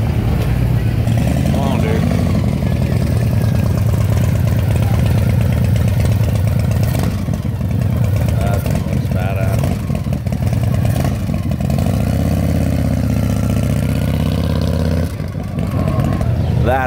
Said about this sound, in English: That is a nice scooter.